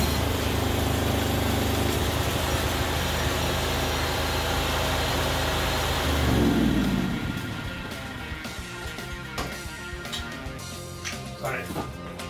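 A Makinex 16kVA generator's engine runs loud and steady up close, surges briefly, then drops to a lower, quieter running note while a person talks over it.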